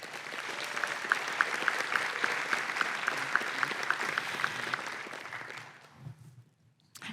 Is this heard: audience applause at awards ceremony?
yes